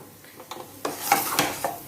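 A spoon stirs thick wheat flour halwa with ghee in a pan, making soft, close scraping and sizzling strokes in a loose, uneven rhythm.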